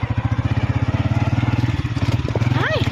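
A motorcycle engine throbs in rapid, steady pulses while riding over a rough, bumpy road, loud and close, with a brief rising vocal sound near the end.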